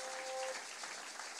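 Church congregation applauding and cheering God during a Sunday service, a steady wash of clapping from the whole room lasting the full moment, with a brief held tone near the start.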